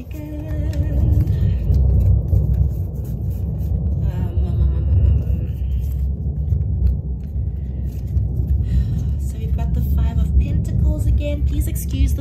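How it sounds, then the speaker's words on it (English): Thunder rumbles through a rainstorm, a deep continuous low roll filling the background and swelling slightly at times, heard from indoors. "Please excuse the thunder."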